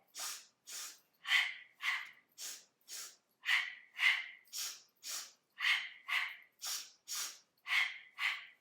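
Sharp nasal sniffs and breathy exhales during a Pilates abdominal exercise, sounding in a brisk even rhythm of paired inhales and outbreaths, close and alone.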